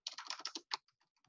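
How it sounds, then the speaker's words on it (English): Quick bursts of typing on a computer keyboard as code is entered: a dense run of close key clicks, then a few sparse, softer taps trailing off. "I think I might as well just type it back in."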